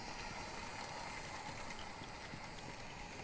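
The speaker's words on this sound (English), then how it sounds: "This toy train is kind of soothing, actually." A toy train running in the video game Life is Strange 2, a continuous faint mechanical clatter and ratcheting of small gears and wheels on track, steady and unbroken throughout.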